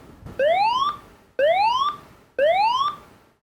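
An electronic emergency evacuation alarm from a DIY controller repeats three rising whoop tones in an even rhythm, loud and close, each sweep ending abruptly before the next begins.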